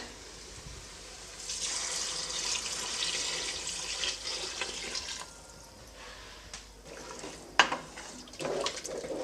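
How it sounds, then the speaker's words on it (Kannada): Five glasses of water poured over rice in a cooking pot for tomato bath, a steady rushing pour lasting several seconds that then thins into splashes and a few knocks, close by with no talking. "ನಾನಿಲ್ಲಿ ಐದು ಗ್ಲಾಸ್ ಅಷ್ಟು ನೀರನ್ನು ಹಾಕ್ಕೊಳ್ತೀನಿ"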